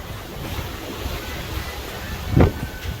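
Ocean waves wash against a cruise ship at sea at night, heard from a balcony as a steady, airy surf hiss mixed with wind noise, with one louder swell building and breaking near the end.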